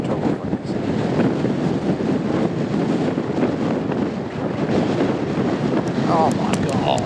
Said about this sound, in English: Oh my god! It's so windy!